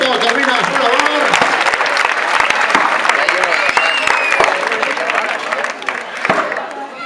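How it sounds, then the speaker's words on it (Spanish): A crowd at a Basque village fiesta's wood-chopping contest applauds and cheers as the axemen finish. Dense, lively clapping and crowd noise hold throughout, with someone talking over it. "hay que preparar el aplauso para los 2"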